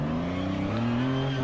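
A WE Rock off-road rock crawler engine revs hard and steady on Trail Hero rocks, a loud close drone that climbs slightly in pitch, with no talking.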